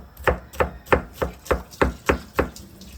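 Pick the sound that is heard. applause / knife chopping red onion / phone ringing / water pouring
knife chopping red onion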